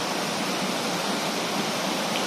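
Waterfall on an off-grid farm, a dense, steady broadband rush of falling water, close and loud, unbroken throughout with no voices.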